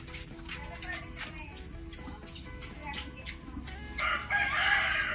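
Farm chickens, including a rooster, crow and cluck repeatedly in short calls near the microphone over a steady background hum, and a louder burst of crowing comes toward the end, with no clear speech.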